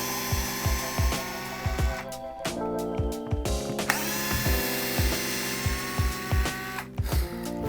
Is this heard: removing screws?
yes